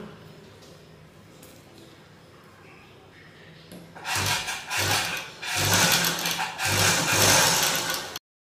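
A sewing machine stitches along a 1.5-inch marking on a turned-over blouse, running in loud bursts of rapid mechanical chatter over the second half after quieter handling at the start.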